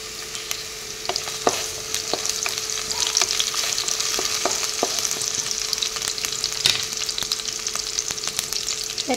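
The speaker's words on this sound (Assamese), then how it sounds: "পিয়াজখিনি অলপ ৰঙচুৱা কৰি লওক ইয়াতে দুটা শুকান জলকীয়া দি দিলো" Onions and a couple of dried red chillies fry in hot oil for a mixed vegetable curry, a steady close sizzle with frequent sharp pops and crackles throughout.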